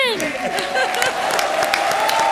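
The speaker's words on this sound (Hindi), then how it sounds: "जोरदार तालियां इनके लिए।" Studio audience on a comedy stage show claps steadily for a performer about to show a stunt, a dense continuous patter with music-like tones over it and some voices mixed in.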